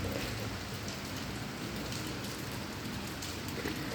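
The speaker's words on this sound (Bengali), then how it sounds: "বৃষ্টি হওয়ার করে আখটা শব্দ শুনলাম" Steady rain falls in Sylhet, a dense, even wash of drops hitting surfaces close by, unbroken throughout with no voices.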